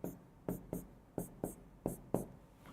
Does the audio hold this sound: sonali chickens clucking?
no